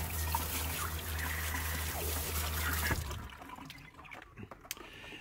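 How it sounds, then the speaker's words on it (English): A hose sprays water to rinse a freshly processed coturnix quail carcass, a steady hissing rush for about three seconds that then cuts off, leaving faint drips and handling noises. "We'll just spray it off a little bit of water here."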